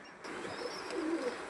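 Pigeons, local and Pakistani breeds kept for sale, give soft low cooing calls close by, a short murmuring coo over a faint background hum.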